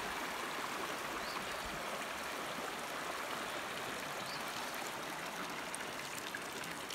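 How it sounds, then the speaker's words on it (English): A spring pours fresh water straight out of the ground, making a steady, close rushing trickle that runs unbroken and alone throughout. "That's the fresh water supply coming straight out of the ground."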